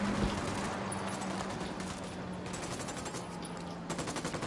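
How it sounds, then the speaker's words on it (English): Automatic gunfire rattles in Ghost Recon Wildlands, rapid continuous bursts of shots at moderate distance, sustained throughout with a brief harder flurry near the end. "Opening fire on these fuckers."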